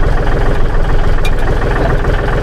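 A used 36 SP Special tractor, a three-cylinder direct-injection diesel with 2,123 hours, idles loudly through a straight-through exhaust, its low, rapid pulsing chug continuous and close with no voices.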